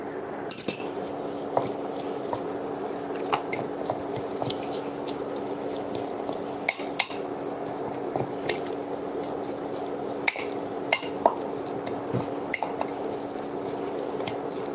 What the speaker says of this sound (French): on mélange bien, on incorpore bien tout ce qu'on a préparé, le fromage blanc, les capres